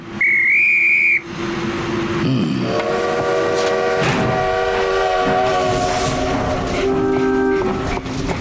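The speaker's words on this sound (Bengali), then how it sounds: "স্পিগেনহাইম মাইন ফ্রেন্ড আর ফ্র্যাঙ্কফুর্টের ট্রেন ছাড়তে যাচ্ছে, সবাই সরে যাবেন।" A train bound for Frankfurt pulls out with a high, steady whistle, followed by loud sustained horn tones with rich harmonics that hold and shift over rumbling rail noise.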